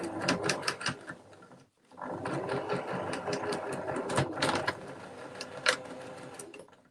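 Up close, a sewing machine runs steadily for several seconds, stitching backwards and forwards to lock the thread on a gift bag, with a whirring motor hum and quick needle ticks broken by a brief pause partway through.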